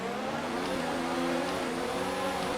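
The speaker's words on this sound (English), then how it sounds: "Quite a bit of wheel spin and oversteer on the start." Race cars in F1 2019 pulling away from a standing start at the Italian GP, engines revving hard with wheel spin, a dense roaring drone of several harmonics rising together, steady and loud throughout with no voices.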